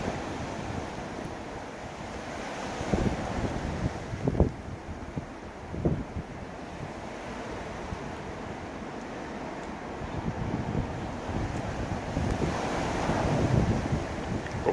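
Strong gusting wind of about 50 to 60 kilometres per hour roars steadily outdoors during a blizzard, with buffeting microphone noise and louder surges that build toward the end.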